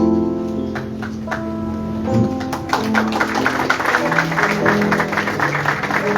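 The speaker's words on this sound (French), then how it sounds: "Applaudir chaudement, chaudement, chaudement" Students at a university integration day applaud their teachers, scattered claps growing into steady applause over sustained musical tones from a band or keyboard.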